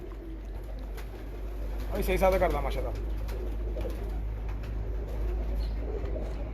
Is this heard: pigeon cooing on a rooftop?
yes